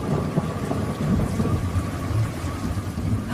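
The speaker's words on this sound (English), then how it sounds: "The heavens battle, the storm roars." Thunderstorm effect for an audio drama, with continuous heavy rain and deep rolling thunder rumbling loudly throughout and no voices.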